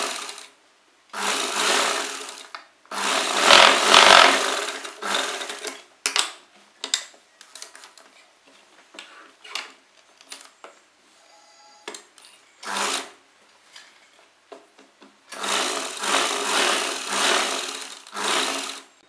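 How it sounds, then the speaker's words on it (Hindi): Electric sewing machine stitching a curved neckline on a blouse neck pattern, with bursts of rapid whirring stitching separated by short stops, clicks and fabric handling, close and loud. "आप पहले इस तरह से गोलाई में सिलाई लगा लीजिए, उसके बाद आप ये वाली सिलाई लगाइए।"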